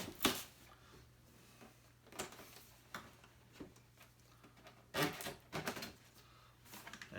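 Plastic utensil cutting adhesive tabs on a Fallout 76 Power Armor Edition box, quiet scattered clicks and scratchy snaps in short irregular bursts, close and faint.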